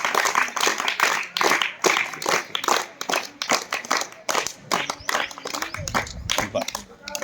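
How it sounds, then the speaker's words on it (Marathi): Schoolchildren clap for a guest at a village Zilla Parishad school, a lively run of uneven handclaps filling the room, with voices heard among them. "आपण टाळ्या वाजवूया ताईंसाठी"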